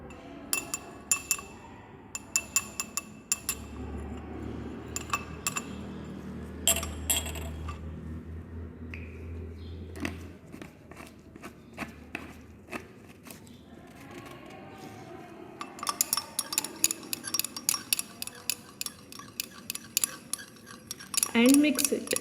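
Iodine throat paint mixture is stirred in a glass vessel, with repeated sharp clinks and taps in irregular clusters. Occasional low voice is heard in the background.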